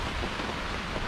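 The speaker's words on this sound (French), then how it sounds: "Et il pleut." Rain falling on Boa Vista island, a steady, close hiss of broadband patter filling the whole moment without any voices.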